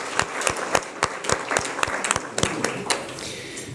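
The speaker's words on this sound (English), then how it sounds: "let's give them a big round of applause to the Pakistan High Commission for such an incredible feat" Scattered hand claps from a modest audience at an Eid and integration dinner, sharp separate claps in an irregular rhythm rather than a dense roar, fairly close and moderately loud with no talking.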